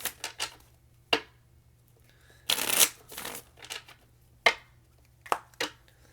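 Tarot cards are shuffled in several quick riffling bursts with one longer flurry, separated by short pauses in a quiet room.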